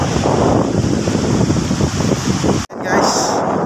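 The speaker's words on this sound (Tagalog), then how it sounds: "Sobrang lakas talaga ng alon." Heavy surf pounds a beach at Dingalan, Aurora, a dense, steady roar of waves mixed with strong wind buffeting the microphone, broken by a brief dropout near the end.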